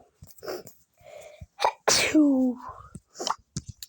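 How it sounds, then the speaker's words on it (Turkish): A single sharp human sneeze bursts out close by, with brief talk and small sounds before and after it in an indoor setting. "Hapşu."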